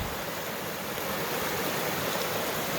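A fast-flowing Vermont stream running high, a steady, close, broadband rush of water that stays loud and even throughout with no voices.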